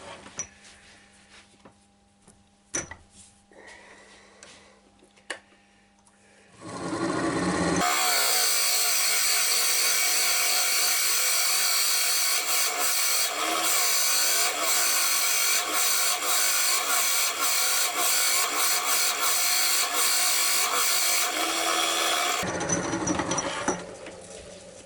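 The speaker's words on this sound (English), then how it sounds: "just taking out a lot more of the wood with the Forstner bit" A Forstner bit bores out wood on a lathe during a woodturning session, a loud steady grinding, scraping roar that runs continuously for about fifteen seconds after quieter handling noises, then stops abruptly.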